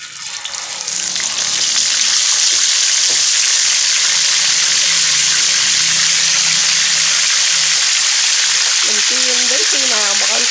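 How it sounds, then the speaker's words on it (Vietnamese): Red tilapia dropped into a pan of hot oil, bursting into a loud, steady sizzle and crackle of frying that holds throughout, with a brief clatter near the end. "Giờ mình sẽ gắp con cá vào, bỏ vào cái chảo dầu này."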